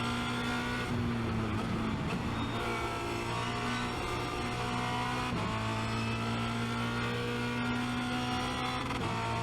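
Formula Renault 2.0 race car lapping Spa Francorchamps, a loud steady engine drone with harmonic whine held close throughout, brief dips in pitch around shifts or braking and pickup again, no talking.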